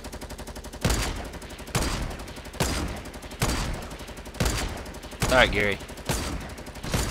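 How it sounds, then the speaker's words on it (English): Fortnite gunfire in a video game fight, a series of sharp, loud shots roughly a second apart, with a player's voice talking between and over them. "I'm still shooting him"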